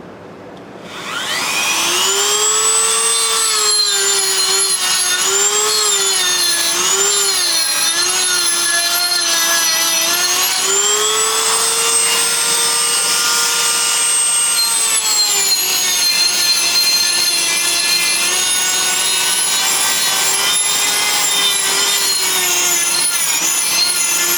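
A power tool fitted with a new disc whines steadily and loudly during a rare Briggs & Stratton NR6 engine restoration, its pitch wavering as it bites into the work for over twenty seconds without pause.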